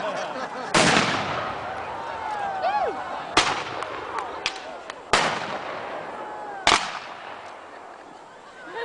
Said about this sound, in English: apparently, one of the king's men has been fiddling with the cannon.